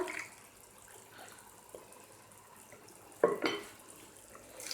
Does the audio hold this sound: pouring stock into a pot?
yes